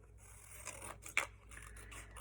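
Scissors cut paper for a small junk journal made from a lunch bag, with a few quiet close snips and one sharper crisp cut standing out in a hushed room, and no talk.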